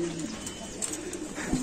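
Lahori fancy pigeons at a pigeon farm give soft, low cooing calls, with a deeper coo near the end, over steady background noise.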